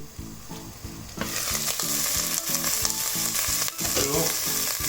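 Vegetables for a homemade pulao stirred and frying in a pot: a loud, continuous sizzle with scraping stirring strokes, a rhythmic repeating tonal pattern underneath, and no speech.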